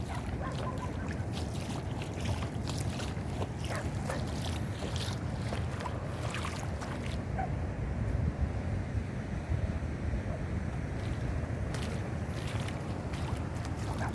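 Strong waves wash continuously onto a low-tide beach near fishing boats, a rough, roaring surf with heavy wind buffeting the microphone, steady and loud with no talk.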